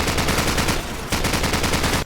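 Sustained automatic assault rifle fire from Half-Life 2, rapid loud bursts with a short pause near the middle before firing resumes, then cutting off abruptly.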